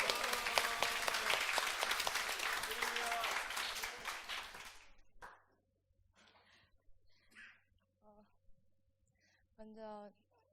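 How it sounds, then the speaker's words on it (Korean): A church congregation claps in welcome at a Sunday service in a new worship hall: dense, steady applause for about five seconds that fades out, followed by quiet room sounds and a brief voice. "박수로 환영해 주세요."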